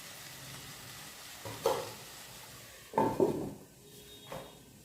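A spoon gently stirs singara filling with fresh coriander in a pan on the stove, with a soft background sizzle and a few scraping bursts of utensil against the pan.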